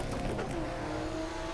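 Car engine in a Supra drift video game, held at high revs with a steady strained whine after a missed shift drops it into neutral. The drone is loud and continuous, with some tire or road noise beneath it.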